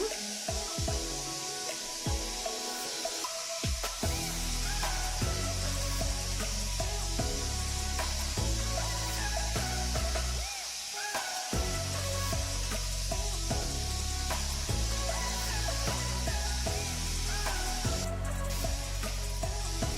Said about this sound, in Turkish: patlıcanlarımı tavamda iki tarafına eşit şekilde kızartıyorum